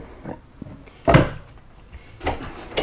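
A drawer in the kitchen island of a 2023 Grand Design Momentum 410TH RV slides open with a soft rumble and a knock, followed by a couple of lighter bumps, close by and quiet.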